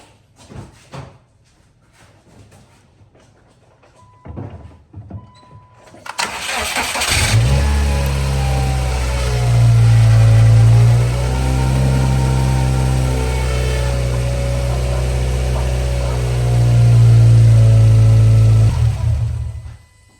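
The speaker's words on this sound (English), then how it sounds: "I'm gonna cut the car on" A 2010 Subaru Legacy GT cranks and fires up loudly after a few quiet clicks, then settles into a steady, close-up idle with a couple of brief rises in engine note.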